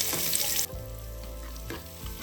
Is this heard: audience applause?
no